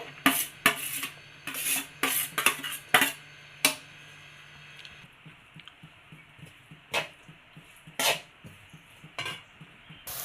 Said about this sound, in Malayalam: ഇതാ നമ്മൾ നെയ്യിലൊന്ന് വഴറ്റിയെടുത്തിട്ടുണ്ട്